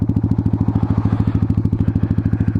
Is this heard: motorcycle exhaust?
yes